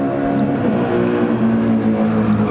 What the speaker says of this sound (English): Love the sound of that AMG.